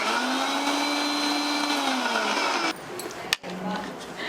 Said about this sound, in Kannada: ಅನಾನಸ್ನ ನುಣ್ಣಗೆ ರುಬ್ಕೊಂಡಿದ್ದೀನಿ.